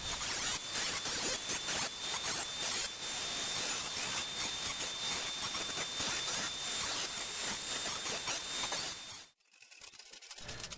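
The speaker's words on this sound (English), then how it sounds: "Replace the small grinding wheel and tidy up the circle of this hole" A small grinding wheel tidies the edge of a circular hole cut in a CCTV DVR power-supply case, giving a steady, loud, hissing whine for about nine seconds before it stops abruptly.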